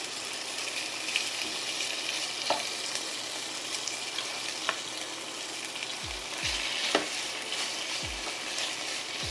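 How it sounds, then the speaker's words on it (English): Beef sears in a pan for stir-fry, giving a steady loud sizzle and crackle throughout with a few brief low knocks and thuds near the end. "we're gonna sear about a minute, minute and a half on one side, and then we'll flip."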